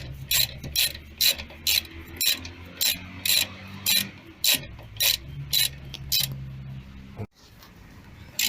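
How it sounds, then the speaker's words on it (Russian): A ratchet tightening the front brake caliper guide bolts on a Daewoo Lanos, loud close clicking in short regular bursts of pawl ratcheting, several strokes in a row with a brief pause near the end. "Затягиваем направляющие болты до упора"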